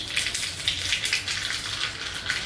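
Cumin seeds crackle and sizzle in hot oil for a chutney tempering, a continuous bright fizz with small rapid pops, steady and close with no talking.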